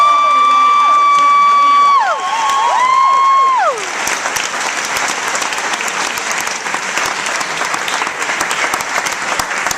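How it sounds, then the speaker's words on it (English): Audience at a Moth GrandSLAM storytelling show in Detroit bursts into loud, sustained applause with some cheering, right after a short gliding musical sting fades out. "Big, huge round of applause for our final storyteller tonight."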